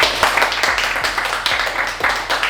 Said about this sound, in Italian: un applauso, grazie